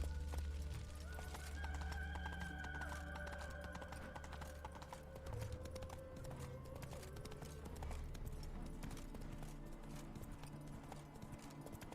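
Geralt's horse Roach gallops in the Witcher 3 video game, a steady clip-clop of hooves running continuously under game music and ambient sound, with no one talking.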